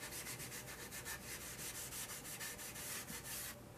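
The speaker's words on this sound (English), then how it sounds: "I'm just going to rub it down with this lightly just to smooth it, make it feel nice" An abrasive pad rubs lightly over oiled guitar wood, making quick rhythmic scratchy back-and-forth strokes close up, about a dozen passes before it stops.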